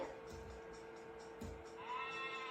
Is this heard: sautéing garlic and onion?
no